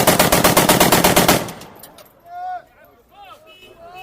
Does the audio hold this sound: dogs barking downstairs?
no